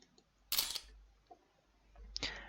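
Camera flash shots fired at bats in an escape puzzle game, heard as two sharp bursts of shutter-like clicking with a pause between, fairly close and without speech.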